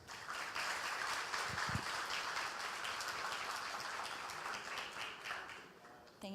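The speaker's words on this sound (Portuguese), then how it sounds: "uma salva de palmas" An audience at a lecture on the history of Campos dos Goytacazes applauds to welcome Professor Rodrigo Rezende, a dense, steady patter of clapping that holds for several seconds and thins slightly toward the end.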